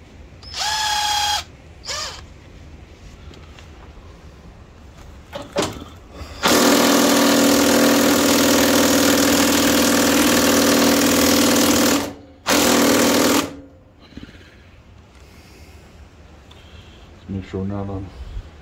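A power drill whirs loudly and continuously for several seconds while working on a John Deere 430 tractor's 3-point hitch, followed by a short burst; brief speech and clatter occur before and after.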